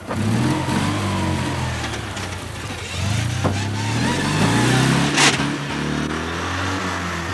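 A Lada Niva four-wheel-drive engine drives downhill, a steady mid-pitched drone that rises and falls with throttle changes, close and loud, with a brief sharp knock partway through and no talk.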